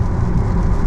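An Audi Q4 electric SUV pulls away hard, its steady low-pitched road and motor rumble filling the cabin loudly and evenly for a brief moment, with no one talking.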